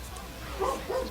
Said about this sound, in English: You're a dog, you can bark.